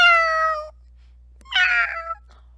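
A cat meows twice, close and clear: a long, steady tonal call, then after a pause a second, more strained and wavering meow, with quiet electrical hum underneath.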